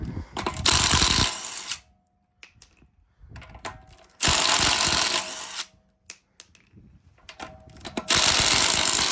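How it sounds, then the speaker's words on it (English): Impact wrench spinning off 21 mm lug nuts on the driver rear wheel of a 2021 Nissan Rogue, three loud sustained rattling bursts separated by quieter gaps with clanks as sockets and nuts are handled, no talking. "To start, you'll start by pulling off the lug nuts. These are 21 mil."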